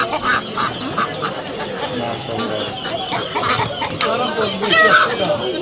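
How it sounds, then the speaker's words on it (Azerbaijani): Roosters crow and ducks and geese quack and honk amid a crowded poultry market in Sabunçu, with Pekin ducks and Australorp roosters among the birds, the calls overlapping steadily while people talk nearby. "Burada xoruzlar var."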